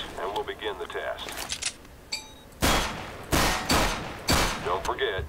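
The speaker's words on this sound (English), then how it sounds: "Don't forget, shoot in short bursts." Gunfire in Overwatch's training range as targets are shot: three loud, sharp bursts in the second half, preceded by quieter in-game clinks, a chime and busy game sounds.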